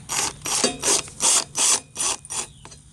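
An impact wrench drives a flywheel bolt in a workshop with about seven loud, rapid hammering bursts in quick succession, close and alone with no talk.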